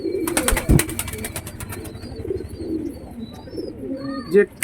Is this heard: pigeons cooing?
yes